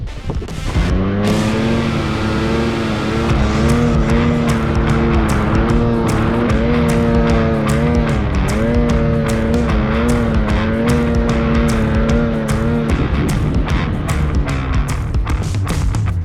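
A Polaris Khaos 850 Boost snowmobile engine climbing a hill, its loud, steady drone holding a rising and falling pitch for the full span, bogging under load with no voices.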